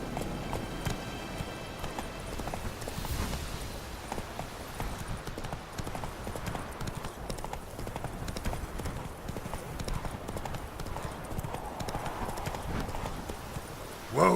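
Hoofbeats of the horse Roach in The Witcher 3, a steady rhythmic clip-clop of hooves on the ground continuing close up throughout, with faint game background sound and no talking.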